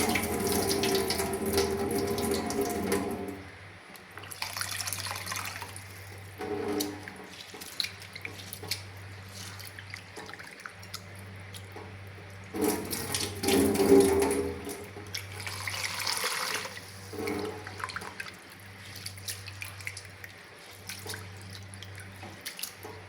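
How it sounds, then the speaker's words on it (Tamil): Rice being washed in water and drained, rinsed three times for a Tamil sweet dough-ball recipe. Running and sloshing water rises and falls in steady waves with small drips, close and moderately loud, with no talking. "அரிசை 3 தடவை இந்த மாதிரி கழுவி தண்ணியை வடித்து எடுத்துக்கொள்வோம்"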